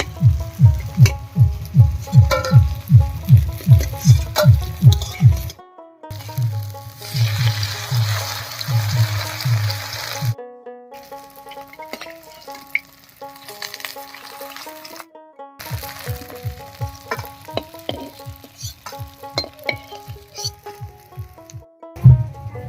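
Kanai dingi greens fritters (bora) frying in hot oil, with loud rhythmic scraping or stirring strokes over a steady sizzle, interrupted by brief silent gaps and quieter stretches of bubbling oil.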